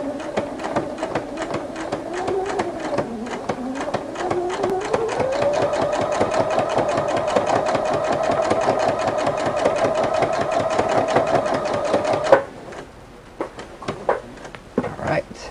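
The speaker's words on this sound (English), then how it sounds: "This fabric satin is a little bit ravelly, so go ahead and ruffle, lower your foot every 6 stitches." A Husqvarna Viking sewing machine fitted with a ruffler attachment gathers ravelly satin, running as a fast, close, steady mechanical chatter for about twelve seconds, then stopping and leaving scattered handling clicks.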